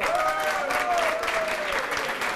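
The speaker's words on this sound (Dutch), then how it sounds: "Dan mag ik voor hem ook een applaus geven." Applause from the audience at a Neil Young fan club day in a community hall, moderately loud and sustained, with a faint tonal whine running beneath the clapping.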